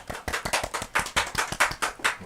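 A lecture audience at Sun Moon University claps for an actor's career talk: a short run of steady, fairly close applause with distinct hand claps and no talking.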